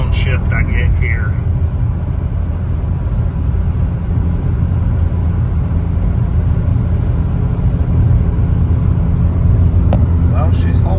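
A 2005 MK4 VW Jetta TDI wagon with a quarter million miles drones steadily from inside the cabin while climbing a highway hill, its low diesel rumble holding even under quiet talk.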